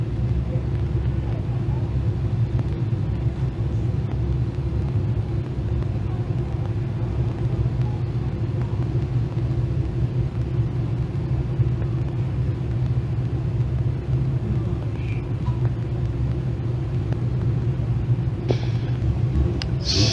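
Thundercar race cars run a heat race at a dirt track, a loud continuous rumble of many engines with wind buffeting on the microphone and a few brief sharper noises near the end.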